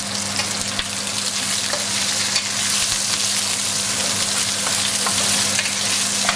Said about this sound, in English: we are now going to add the aromatics, starting with the lemongrass and the galangal root